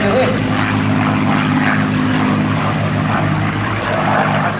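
A Messerschmitt Bf 109 Buchon propeller fighter roars past at an airshow, its engine drone loud and steady throughout with a broad, rough tone.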